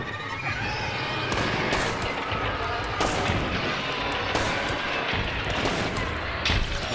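Gunfire from a Lebel rifle in the Hunt: Showdown video game, a dense loud wash of shots and booming reports running continuously, with sharp cracks standing out over the noisy mix.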